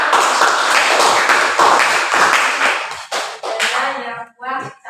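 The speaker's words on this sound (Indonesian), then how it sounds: "Oke, tepuk tangan." A classroom of students clapping their hands together in a teaching lesson, a loud burst of rhythmic group claps that thins into scattered claps toward the end.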